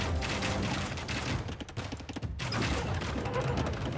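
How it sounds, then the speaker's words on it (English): Siege combat in the Age of Empires strategy game as an onager attacks trebuchets: a dense, loud clatter of crashing impacts and mechanical rattling that dips briefly, then resumes at full strength. "this onager is attacking the trebuchets"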